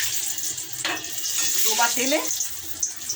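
Tal bora, palm-fruit fritters, frying in deep oil over a low gas flame, giving a steady bright hiss with faint bubbling, close by, while a voice hums and speaks briefly in the middle.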